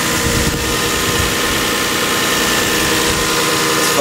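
A Lexus IS300 engine runs after a repair, giving a steady, close, even drone with a continuous mechanical rumble and no pauses or changes in pace.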